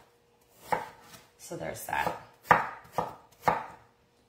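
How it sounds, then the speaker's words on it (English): A knife chops food on a board while making German rice pudding in a home kitchen, with about five sharp, evenly spaced strikes close up and a short spoken remark partway through. "I guess you don't see me chopping"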